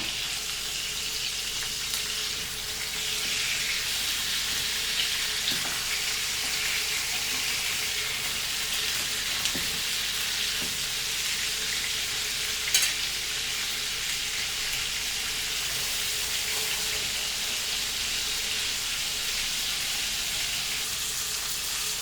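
Goan pork chops sizzle on a hot tawa in a steady, loud, continuous hiss of frying, with a few small pops and nobody talking.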